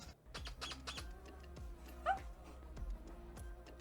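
A woman imitates a dog with her voice, giving a few short, yappy bark-like yelps over a faint, steady background with no other talking.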